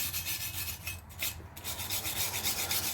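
Steady brush scrubbing against the groove of a Ford Escape front wheel hub, a continuous rasping rub that runs close and fairly loud throughout with no pauses.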